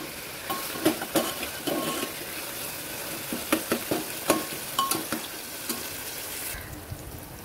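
Onion and tomatoes fry in a pan while being stirred, giving a steady sizzle broken by irregular scraping and clinking strokes, close by, with the sizzle easing near the end.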